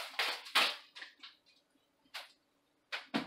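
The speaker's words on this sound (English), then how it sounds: "They've got a shrink wrap here." Shrink wrap being pulled and torn off a pack of LED T5 tube lights: several close, crinkly plastic rustles in short bursts separated by brief quiet pauses.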